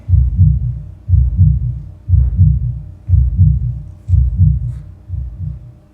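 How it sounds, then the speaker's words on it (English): A slow, steady heartbeat throbs alone in a deep, loud low-end pulse, about one double thump per second for six beats, with a faint hum beneath and no voices. "Can you hear that? The sound of my heart beating, throbbing."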